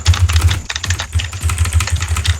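Loud, rapid clacking from a computer keyboard during a Blox Fruits gaming session comes as close, uneven bursts of keystrokes with brief gaps, and no one speaks over it.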